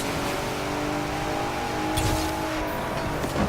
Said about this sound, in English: Now, let's see how fast this truck can go.